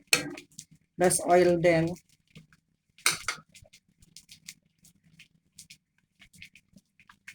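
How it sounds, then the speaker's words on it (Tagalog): A spoon clinks and scrapes against a pot of homemade soup on the stove, in sparse light taps and a few louder bursts. A person speaks briefly over it. "Stir, stir."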